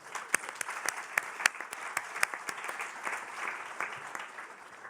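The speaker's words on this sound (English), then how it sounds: "Give yourselves a big round of applause." A conference audience applauds at a keynote, with scattered, distinct hand claps standing out over a softer bed of clapping, moderately loud and close, with no talk over it.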